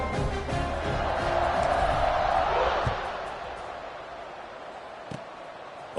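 A home crowd at a football game roars loudly and steadily for about three seconds, then settles into a lower, continuous murmur with a few sharp bursts of noise.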